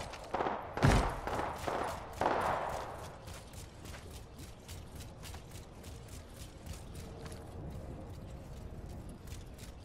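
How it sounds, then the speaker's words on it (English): Video game gunfire: a few loud, sharp shots ring out early, then a long run of fainter rapid clicks and mechanical ticks follows. "I'm taking the shot."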